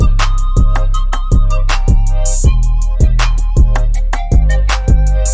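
A loud hip-hop beat recreating a song, with booming, sustained 808 bass notes under crisp drum hits in a steady, punchy groove.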